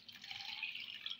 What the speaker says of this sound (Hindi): एक पैन लेकर उसमें 500 ml ये मैं पानी डाल रही हूँ